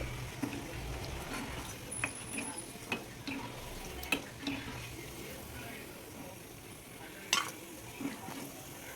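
Cashew nuts fry in a pan with a low, steady sizzle, punctuated by scattered clicks and scrapes of stirring, some sharper knocks standing out.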